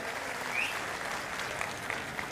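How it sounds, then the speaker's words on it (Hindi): Applause from a crowd at a Congress party rally in Latur, a steady wash of clapping at moderate, fairly distant level that continues evenly throughout. "मैं चाहता हूं एक बार जोरदार ताली उनके लिए बजाएं"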